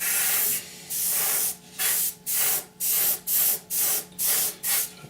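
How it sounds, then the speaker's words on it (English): Airbrush or spray can bursts of paint onto the door of an Airfix 1/48 scale Sea Vixen plastic model kit: about nine short, close hissing sprays in a fairly steady rhythm, separated by brief pauses, with no talking. "But what I tend to do is spray the entire of the door."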